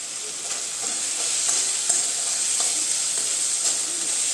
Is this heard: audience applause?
no